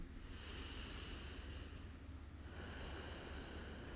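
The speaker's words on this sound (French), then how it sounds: "On est là encore pour une dernière respiration." Slow, soft breathing during a hatha yoga session, close and quiet, with a long airy exhale followed by another drawn-out breath.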